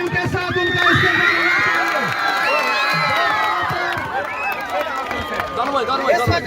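A school crowd at a sports event cheers, shouts and whoops loudly for a player, with children's excited voices and clapping mixing into a lively, continuous din.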